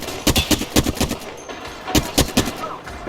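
Gunfire in the Apex Legends video game: rapid bursts of shots in uneven clusters, loud and close, with short gaps between volleys and no talk.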